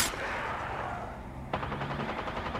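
Gunfire from the video game Apex Legends crackles faintly in two short bursts, the second a sharper rapid rattle after a brief lull, with no talk over it.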